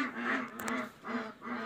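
Several ducks on a farm quack in repeated loud bursts, three or four rhythmic calls close by with no talk over them.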